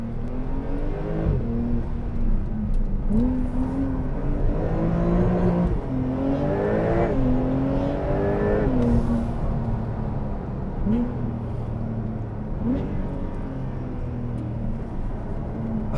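A Porsche 911 Turbo S (992) engine drones and rises in pitch as it accelerates, heard from inside with steady road noise, rising and falling revs.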